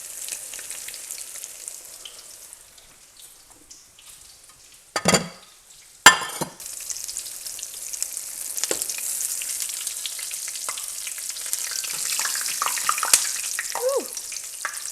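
Stuffed squash blossoms sizzle and crackle in hot oil, a steady frying hiss with a couple of sharp louder bursts around the middle as pieces are laid in, plus faint utensil clicks.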